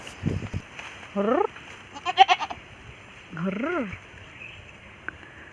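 An ageing goat bleats twice nearby with wavering, nasal calls, separated by quieter rustling and a brief burst of other noise.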